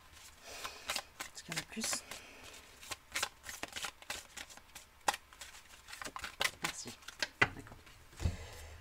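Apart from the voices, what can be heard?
playing cards being shuffled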